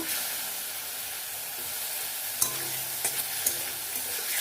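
Masala and tomato frying in a pan, a continuous close sizzle and hiss with a few sharp stirring knocks and scrapes in the latter half.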